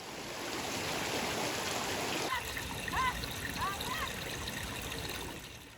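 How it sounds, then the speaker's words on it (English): Water flows between terraced rice paddies in Bali's Subak irrigation system as a steady, fairly loud rush for the first two seconds, then a softer trickle with a few bird chirps over it. "water flows from one rice paddy to the next"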